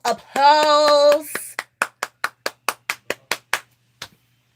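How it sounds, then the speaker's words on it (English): Applause from a small live-stream gathering, heard as about ten sharp, evenly spaced hand claps from what sounds like a single person, close and distinct, following a brief tonal sound at the start. "Let's give ourselves a round of applause."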